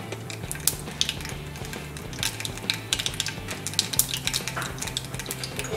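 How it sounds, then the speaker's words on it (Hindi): Mustard seeds crackle and pop in hot oil with irregular sharp snaps, close up, over a low steady hiss; no voices. "राई हमारी चटकना शुरू हो चुकी है।"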